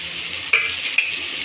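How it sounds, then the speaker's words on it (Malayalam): Spice powders (red chilli, pepper, garam masala, turmeric, meat masala, coriander) sautéing in a pan for beef masala curry, a steady bright sizzle with two sharp scrapes of the spoon, close and loud, no talking. "ഇട്ട് കൊടുത്തിട്ട് ഇതൊന്ന് വഴറ്റി കൊടുക്കാം"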